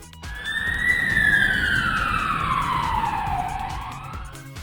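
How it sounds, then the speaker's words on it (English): Police car siren wailing loud and close, a single long rising then slowly falling sweep over rumbling traffic, with no speech. "Police car."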